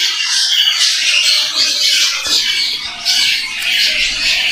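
Budgerigars in a breeding cage, where a pair sits on eggs among young albino chicks, keep up a steady, busy high-pitched squawking and chattering, close by and fairly loud with no voices over it.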